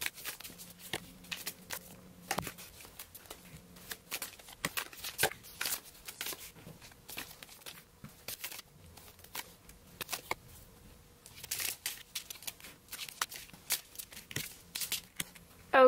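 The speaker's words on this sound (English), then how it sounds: "I'm going to lay these cards out" Tarot cards being shuffled and laid out, with dense bursts of crisp riffling and flicking card sounds repeating close up across the whole stretch, broken by short pauses.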